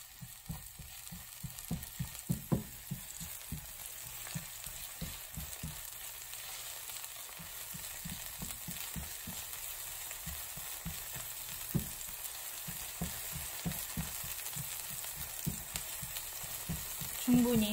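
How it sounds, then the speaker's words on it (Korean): Squid kimchi fried rice being stir-fried in oil over high heat, a steady sizzle broken by frequent scraping strokes of the spatula against the pan. "센 불에 볶아주세요"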